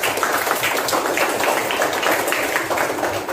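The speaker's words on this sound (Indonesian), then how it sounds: "Ya, tepuk tangan untuk Mawar." A class of students applauds a classmate named Mawar, with a continuous patter of many small hands clapping together, steady and fairly loud throughout.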